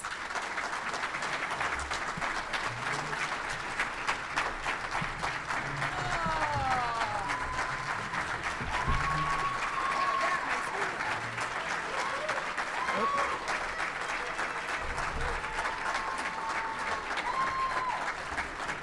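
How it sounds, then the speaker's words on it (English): Audience at a veterans luncheon applauds steadily for Jeannie, a dense wash of clapping that holds for the whole stretch, with scattered voices and brief whistles or cheers poking through. "Would everyone please give Jeannie a round of applause?"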